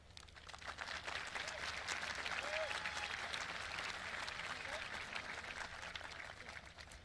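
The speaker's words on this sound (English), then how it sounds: "I want to start off by asking everyone to applaud for our coaches, teachers, family, and friends" Graduation crowd at a high school commencement applauding, a dense, steady wash of clapping that swells within the first second and holds at an even, loud level throughout, with faint voices and a cheer or two mixed in.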